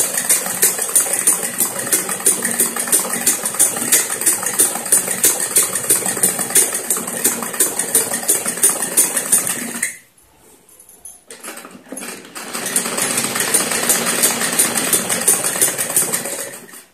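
A sewing machine stitching salwar fabric runs in a steady, fast mechanical whir with rapid needle clatter, stops briefly for about two seconds, then starts again and continues at the same pace.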